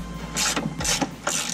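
A hand ratchet turns lower control arm bolts on a Honda CRX, giving three quick bursts of close mechanical clicking over a faint background hum.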